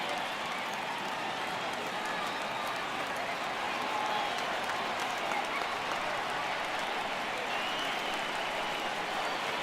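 Massive baseball stadium crowd of over 39,000 in MLB The Show 18, Red Sox at Angels, roaring and cheering steadily on their feet, a dense sustained wall of noise with scattered applause throughout.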